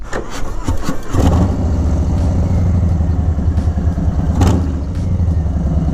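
A Harley-Davidson Softail Street Bob motorcycle cranks and fires up, then settles into a loud, steady, rumbling idle close by, with a brief rev swell a few seconds later.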